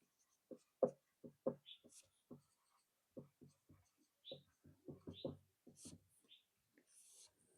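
Chalk or marker strokes on a classroom board during a Hindi history lecture: short, close scratching bursts in irregular clusters with brief pauses between them.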